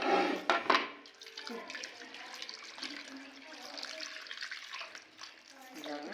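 Water splashes and pours steadily into a cooking pot of curry, a louder gush at the start settling into a continuous trickle, with a voice speaking faintly nearby.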